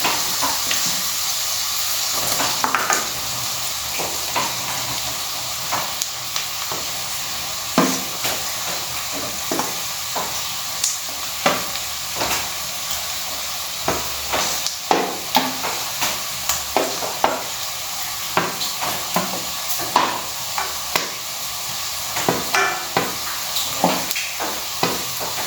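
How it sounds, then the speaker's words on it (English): Grated coconut sizzles steadily in a pan for a long stretch, with frequent scraping clicks from a spoon stirring it. No one speaks. "Now we will saute this till it gets nice golden brown color."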